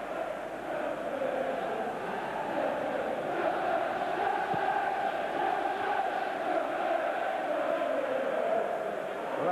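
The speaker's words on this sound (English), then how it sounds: "Well, that's really got the crowd going." A large football crowd roars at a 1994–95 Chelsea v Everton match, a sustained, dense wall of noise after a shot hits the post, steady and loud throughout.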